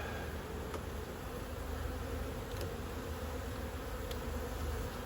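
Honey bees buzz around an open hive in spring. The hum is steady and fairly soft, made of many overlapping wingbeats with no talking.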